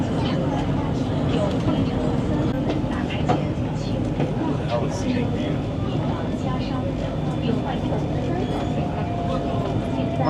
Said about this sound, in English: And now we're inside the train that goes through a building.